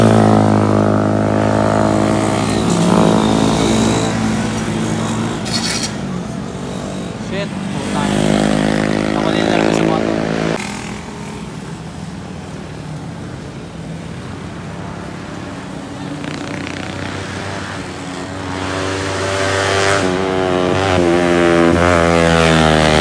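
A Honda Wave motorcycle engine runs loud and close for the whole stretch, its buzzing tone rising and falling as the throttle changes, with a voice talking over parts of it.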